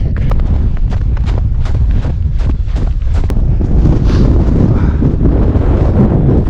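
Strong wind roars continuously across an exposed hilltop on Meall a Bhuachaille, buffeting the microphone with loud, gusty low rumble throughout, broken by sharp rhythmic knocks and scuffs of movement.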